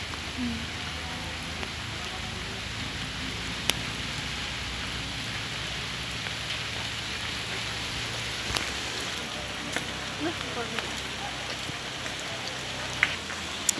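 Rain falls steadily over a hilly area, a dense, even hiss with occasional louder drop hits and no voices.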